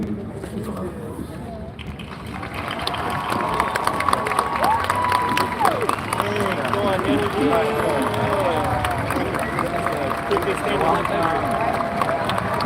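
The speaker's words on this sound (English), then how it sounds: "Please stand as we honor you with our applause." A graduation audience at a UCLA ceremony claps and cheers, a sustained wash of applause mixed with nearby chatter and voices.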